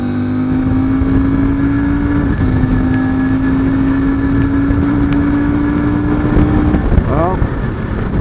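A CF Moto 800MT motorcycle travelling at over 100 mph, its engine a loud steady drone under heavy wind rush, with a brief shift in pitch near the end.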